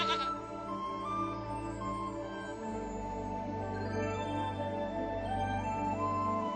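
A farm goat bleats in a sustained, quavering cry, fairly close and clear, holding for several seconds with slight pitch wobble and no talking over it.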